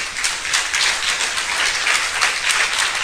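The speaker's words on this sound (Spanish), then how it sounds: "le hago un aplauso al Señor en esta hora bendita" A church congregation claps steadily in a dense, continuous wash of applause, fairly loud and sustained throughout with no voices standing out.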